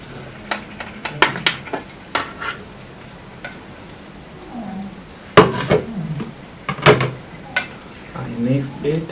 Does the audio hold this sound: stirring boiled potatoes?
yes